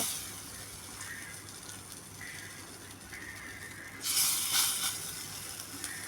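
Small balls of batter drop into hot oil and fry, a soft hiss that swells into a brighter, louder sizzle near the end, close by, with no voices.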